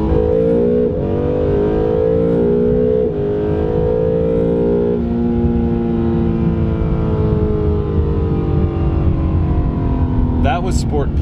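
Acura NSX supercar engine in Sport Plus mode revving hard and accelerating through rising and falling gear pulls, loud and close throughout with a brief shift dip, under faint cabin talk.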